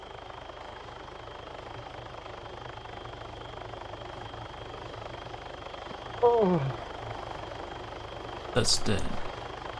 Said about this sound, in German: Ah. So ein Heli.